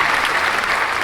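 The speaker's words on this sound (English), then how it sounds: "a round of applause for that beautiful introduction" Studio audience applause at a telethon, a dense, loud wash of clapping that holds steady for about a second.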